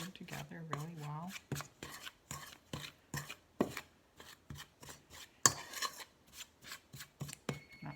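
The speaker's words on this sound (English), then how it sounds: "I'm going to make sure this is all stirred together really well." Apple crisp mixture stirred in a bowl, a steady run of close scraping, rasping strokes against the bowl in a regular rhythm, with a brief voice near the start.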